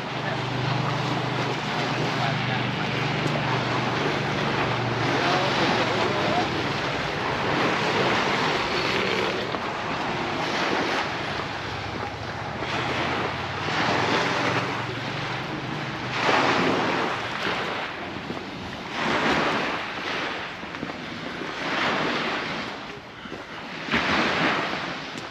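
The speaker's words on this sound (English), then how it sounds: "they're going to the San Matias beach, which is right in front of us now" Sea waves washing onto San Matias beach in Palmanova, Mallorca, a continuous broad surf roar with repeated swells, mixed with strong wind buffeting the microphone.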